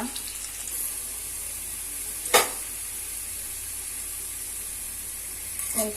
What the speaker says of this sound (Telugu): ఒక చిన్న బాండీలో ఆయిల్ వేసుకోవాలి దానిలో ఆనియన్స్ వేసుకోవాలి